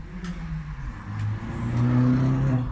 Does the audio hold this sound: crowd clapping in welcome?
no